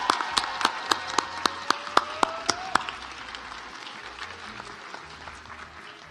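Graduation celebration audience applauds the Asian and Pacific Islander class of 2023 master's graduates, with sharp individual claps up close over a broad wash of crowd clapping that gradually fades.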